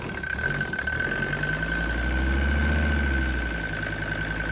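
A Mercedes OM617 3.0-litre diesel engine runs at a steady idle, a smooth, close, continuous clatter and hum with no voices over it.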